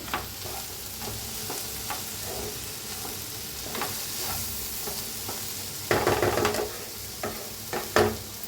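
Misal mixture with crushed peanuts being stirred in a pan, a spoon scraping and knocking at an uneven pace over a soft steady sizzle, with a couple of louder strokes toward the end.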